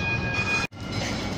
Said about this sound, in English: There's one of the trams in the background, if you want to check that out.